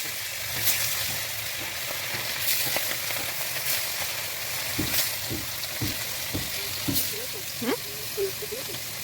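Fish seasoned with salt and turmeric sizzling and frying in oil in a kadai, a steady close hiss with occasional clinks and stirring taps, while a person talks over it.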